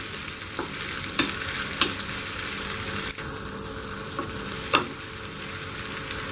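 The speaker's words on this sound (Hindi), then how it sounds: "और इसे हमें गोल्डन ब्राउन होने तक फ्राई करना है।" Two medium onions, chopped neither too fine nor too coarse, fry in a pan for Hyderabadi mutton biryani, giving a steady close sizzle with a few brief clinks and stirring scrapes and no talking.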